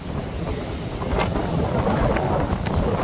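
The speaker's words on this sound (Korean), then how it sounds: "제가 서있기도 힘들 만큼 바람이 세게 부는 거예요." Strong wind on the coast facing the Oryukdo rocks, roaring steadily and loudly into the microphone as a dense, unbroken rumble with faint surf underneath, with no talking.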